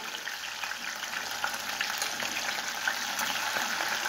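Wild game meat frying in a pot, a steady dense crackle and sizzle that holds at an even level throughout, close by, with no talk over it.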